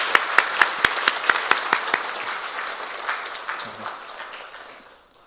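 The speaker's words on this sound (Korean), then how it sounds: "우리 박수로 보내드리도록 하겠습니다." A church congregation gives its pastor a round of applause during a Sunday morning service; distinct claps ring out early, then blend into a softer patter that fades away to quiet.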